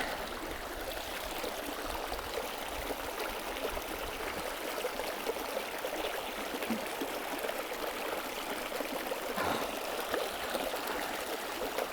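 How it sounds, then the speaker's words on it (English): Water squeezed from a plastic bottle through an attached water filter runs in a steady trickling, splashing stream for several seconds, close and continuous with no talk. "So I'm able to get enough pressure by squeezing this bottle to force the water through the filter."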